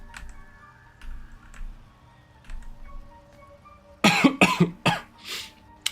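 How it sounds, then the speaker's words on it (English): A person coughs several times in a quick loud burst close to a microphone, after a stretch of soft keyboard typing and clicks during a Baldur's Gate 3 session. "I try not to cough right into the mic"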